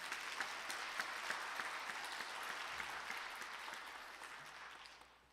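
A church congregation applauds its choir during a Sunday morning service, a dense, sustained wash of clapping from many hands that holds steady and then tapers off at the end.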